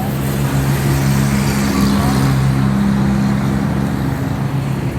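Suzuki Mehran 2004 model car engine idling nearby, a steady low rumbling hum with even tonal drone and no revving, continuous for the whole stretch without talk.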